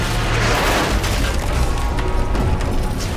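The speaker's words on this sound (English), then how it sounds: "These massive explosions have brought new gameplay with them." A continuous, dense rumble of large explosions across Verdansk in Call of Duty, with crashing debris, loud and sustained throughout, no voices.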